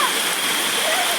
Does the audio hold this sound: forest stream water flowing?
yes